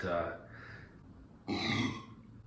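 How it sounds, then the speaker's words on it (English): Two low, throaty burps, close and fairly loud, the second longer and stronger after a short pause. "it ain't a video without me burping."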